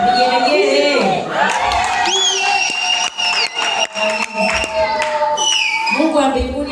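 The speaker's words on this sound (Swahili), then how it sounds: "Vigelegele." Loud, high warbling ululations ring out at a women's day church celebration, layered with rhythmic clapping and crowd cheering, close and continuous, with the trilling voices rising and falling throughout.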